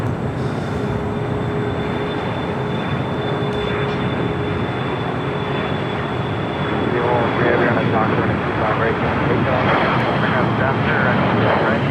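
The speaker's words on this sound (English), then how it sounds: "Silver Air heading to Van Nuys in a Cessna 525B citation" A Cessna 525B Citation CJ3 business jet at LAX airport, a steady broad engine roar with a thin whine running throughout, heard at moderate distance with airport background noise.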